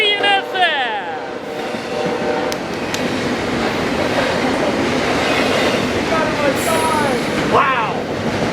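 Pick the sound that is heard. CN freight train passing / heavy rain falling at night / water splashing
CN freight train passing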